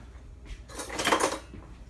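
Food with low-sodium soy sauce is stirred in a pan, with a short burst of scraping and clinking of utensil against metal that rises and fades within about a second.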